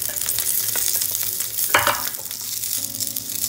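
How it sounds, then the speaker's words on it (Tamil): Garlic and curry leaves sautéing in a little oil in a pan, a busy close sizzle with a sharp stirring scrape midway and faint background tones. "பூண்டு கருவேப்பிலை போட்டு நல்லா வதக்கிக்கலாம்"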